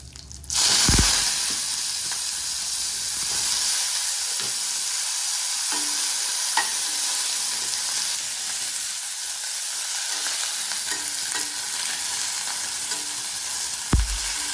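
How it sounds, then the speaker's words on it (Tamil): Brinjal (eggplant) pieces stir-fried in hot oil with mustard seeds, urad dal and curry leaves, giving a loud continuous sizzle close by, with a few utensil scrapes and a clank at the start and end, no talking. "இந்த கத்திரிக்காயை போட்டு வதக்கிடலாம் நல்லா"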